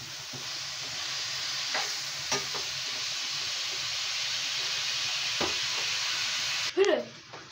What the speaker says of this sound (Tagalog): ginigisa ko na yung ating carrot at saka sayote